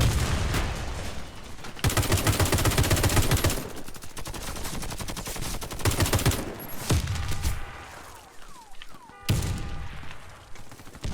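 Sniper and other gunfire in the Warface video game, a dense run of loud sharp shots and bursts, then scattered cracks and faint electronic game sounds, with no talking.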